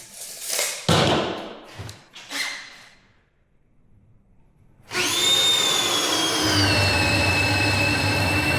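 An electric drill with burnt-out, worn brushes bores into log wood for a bench: a few rough scraping bursts, a short quiet gap, then a sustained, loud, high-pitched motor whine.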